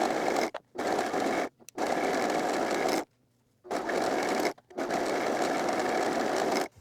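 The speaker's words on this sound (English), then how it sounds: "So we're going to overlock this edge" An overlocker serges the edge of sweatpants fabric: steady, loud mechanical whirring in four long bursts, separated by short pauses and one longer silence.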